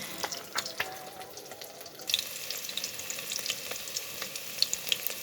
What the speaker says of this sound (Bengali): এই যে লাল লাল মাছ ফ্রাই হচ্ছে